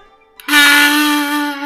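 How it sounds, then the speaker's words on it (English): A kazoo is played at the edge of the mouth, producing a loud, bright, sustained buzzing note that starts abruptly and holds steady for over a second. "put it at the edge of your mouth like this, you get a very bright noise"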